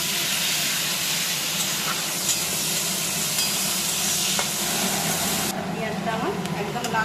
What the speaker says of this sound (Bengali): আমি মাছের তেলে পেঁয়াজ দেব।